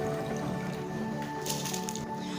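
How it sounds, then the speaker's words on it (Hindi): Rice is tipped into a pot of boiling water with a little oil: a close, wet squishing and splashing with dripping, over a steady bubbling hiss. "अब हम इसके अंदर चावल ऐड करते हैं।"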